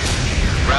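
An enemy ground facility blowing up in Ace Combat 6, a brief, dense, rumbling blast that fills the moment with heavy low roar and noisy crackle, loud and close.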